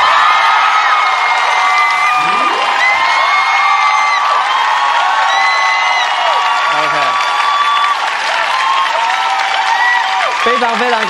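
A talk show studio audience bursts into loud, sustained applause for Tsai Ing-wen, with dense clapping, whoops and excited shouts ringing close throughout, and voices rising above the roar.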